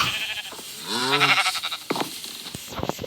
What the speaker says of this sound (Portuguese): As ovelhas estão estragando aqui